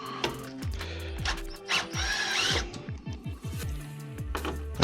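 Small Hitachi cordless drill with a T15 star bit backs out bumper bolts on a 2019-22 Chevrolet Blazer in a series of short whirring bursts that rise and fall, with ratcheting clicks between them, close and fairly quiet.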